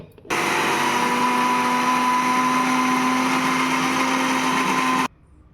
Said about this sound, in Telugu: ఇప్పుడు దీన్ని మిక్సీ చేసేసుకోవాలి.